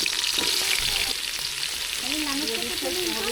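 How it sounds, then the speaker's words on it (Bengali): Potatoes fry in hot oil in a pan, giving a continuous loud sizzle with occasional stirring scrapes, and a voice is faintly heard near the end. "এবার আলু ভেজে নেবে"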